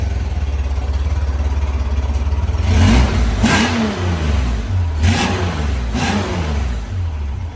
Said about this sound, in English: I had the gas light on, but she runs without choke.